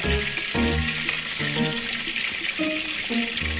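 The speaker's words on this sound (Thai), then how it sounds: "อันนี้จะคั่วนะคะให้หอมเลยค่ะ ใส่น้ำไปนิดนึงนะจะได้ไม่ไหม้เลยค่ะ" Chilies, shallots and garlic are pan-roasted with a splash of water, giving a loud, continuous sizzle and hiss with occasional stirring scrapes, accompanied by faint background music.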